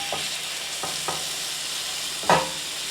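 Salmon fillets sear meat side down in a hot pan, a soft, steady sizzle broken by a few light utensil taps and one louder clatter near the end.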